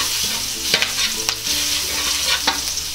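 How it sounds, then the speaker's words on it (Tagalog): Shredded garlic fries in cooking oil in a pan, a bright continuous sizzle up close with a few quick stirring scrapes and clicks against the metal. "Ngayon po ay igigisa na natin yung ating bawang."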